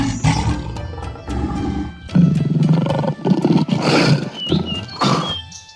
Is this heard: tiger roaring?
yes